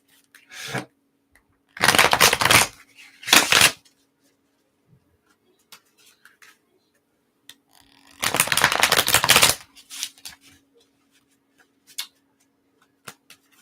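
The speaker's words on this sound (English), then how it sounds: "I think I done shuffled this enough" Playing cards are shuffled in several short riffling bursts, each a second or so long with quiet gaps between, close and crisp, followed by a few faint clicks.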